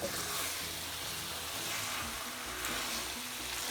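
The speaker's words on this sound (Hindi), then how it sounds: "इसको हम 2-3 मिनट तक भूनेंगे, मसाले इसके अंदर मिक्स हो जाए अच्छे से।" Lamb pieces and masala sauté in a pan for a coconut lamb curry, giving a steady, close hissing sizzle with occasional stirring scrapes.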